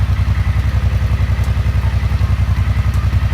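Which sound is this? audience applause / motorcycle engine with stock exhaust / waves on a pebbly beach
motorcycle engine with stock exhaust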